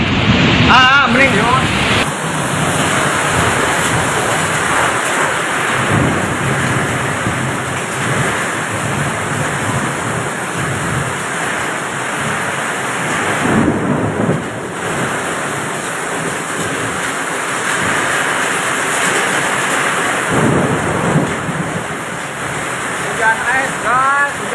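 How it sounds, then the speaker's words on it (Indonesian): Hailstorm with strong wind and thunder in Subang, a loud, continuous roar of hail and rain pounding surfaces, with gusting wind surging and low rumbles underneath, and voices faint within the din. "Hujan es, guys, hujan es"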